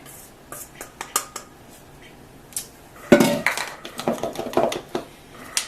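Homemade baking powder goes into a glass mason jar with scattered clinks and taps of utensils against glass, then a louder rush and rattle of powder pouring, followed by more knocks.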